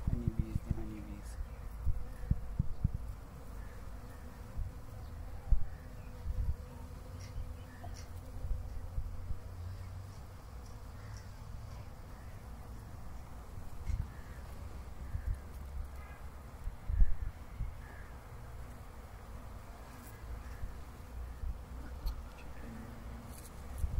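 Honeybees buzz around blooming mustard flowers in spring, a continuous close hum that rises and falls as insects pass nearby, with occasional soft bumps and a faint voice in the background.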